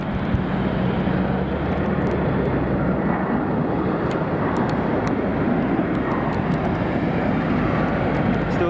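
An ATR 42 turboprop airliner at Munich airport gives off a loud, steady engine drone with a low humming tone, holding unbroken throughout with no pauses.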